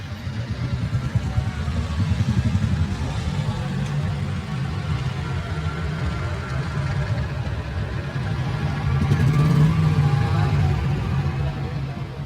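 Steady traffic roars along the Boudha Sadak main road near the stupa in Kathmandu, a continuous low rumble of engines and motorbikes that swells slightly toward the end, heard alone without speech.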